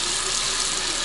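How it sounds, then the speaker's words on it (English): A bathroom sink faucet runs full on hot, giving a steady, close rush of water with an even hiss and no pauses. "I'll run the water first"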